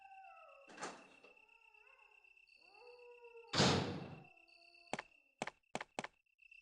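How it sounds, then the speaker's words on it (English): A heavy metal door in the Resident Evil Director's Cut game creaks and groans open, followed by a loud metallic slam and a few sharp clanks, heard alone with no talking. "Nice, comforting metal door."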